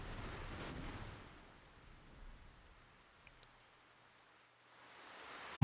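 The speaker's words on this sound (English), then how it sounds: "Why is the rain so loud?" Rain pours in the video game Xenoblade Chronicles as a steady broadband hiss, louder at first, then easing to a softer wash before swelling again at the end.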